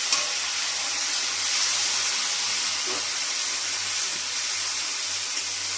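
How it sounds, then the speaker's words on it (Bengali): Chopped tomatoes added to well-fried onions in a pan give off a steady, even hiss of sizzling that holds unchanged throughout, moderately loud and close, with no talking. "পেঁয়াজটা ভালো মতন ভাজা হয়ে গেছে। এবারে দিয়ে দেবো টমেটো কাটা।"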